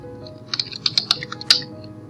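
Typing on a computer keyboard to enter a written comment on a student's paper, a quick run of sharp key clicks with a few brief pauses, close and clear, no voices.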